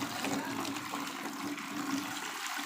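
Water, about two kilograms, pours into detergent powder in a washing-powder factory, a steady rushing, gurgling flow that stays constant and moderately close throughout.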